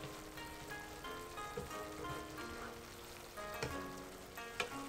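Beef sizzling steadily in a pan as mirin is added for gyudon, a continuous crackling fry with small pops and bursts of stronger hiss, close and alone without talk.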